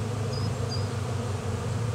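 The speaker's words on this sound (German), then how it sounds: "Man sieht, es hat immer noch einige Bienen, die hier herumsurren." A swarm of honeybees buzzes in a steady, dense drone close by, with a few single bees whining past.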